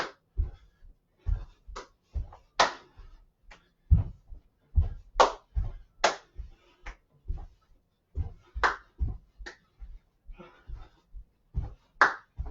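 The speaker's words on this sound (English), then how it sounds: "Now the other clap." Steady claps and slaps from a wrestling conditioning routine, crisp hand claps alternating with duller body slaps in a regular workout beat, close and clear with no voices.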